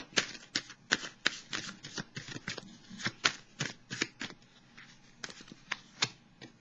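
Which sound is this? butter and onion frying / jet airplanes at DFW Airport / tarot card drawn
tarot card drawn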